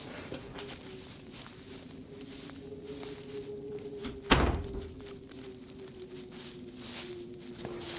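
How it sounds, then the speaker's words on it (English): An indoor door is pushed shut, giving one sharp thud midway through a steady hum of room noise, with a faint softer knock shortly after. "I just got to shut the door behind me so I don't get disturbed."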